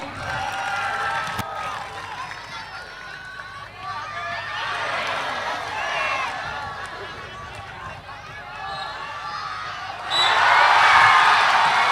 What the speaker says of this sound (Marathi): जोरदार टाळ्या होऊन जाऊ दे या पॉइंटसाठी.